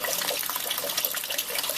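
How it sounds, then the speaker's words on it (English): Sparge water draining through mashed grain into a container while brewing ale, a continuous close trickling and splashing rush of liquid, steady with no talk. "This is going to take about at least 15-20 minutes for all of this water to go through here, through the grain and into this container here."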